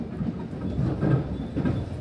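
A train runs along the line near Kii-Arita Station in Japan, giving a quiet, low rumble with a soft, steady rhythmic clatter of wheels on rail over a couple of seconds.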